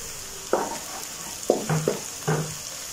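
Chopped green chilies fry with onions and tomato masala in a pan, a steady close sizzle broken by a few sharp stirring scrapes.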